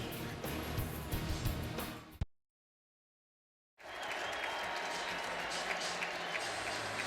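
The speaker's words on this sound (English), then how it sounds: "all of the New England fans that are still here at First Energy Stadium standing and applauding and chanting Tom Brady's name" New England fans in the crowd at FirstEnergy Stadium in Cleveland clap and cheer at a Patriots–Browns NFL game, a dense roar broken by a sudden gap of near silence before the crowd noise returns.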